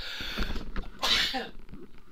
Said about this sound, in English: Usual Let's Play allergies of sneezing.